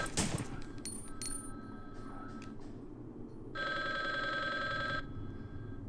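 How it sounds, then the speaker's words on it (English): A payphone rings in the PlayStation light-gun game Resident Evil Survivor, a steady electronic trill that bursts out loudly near the end over dim game ambience, after a sharp bang at the start. "can we shut that payphone off?"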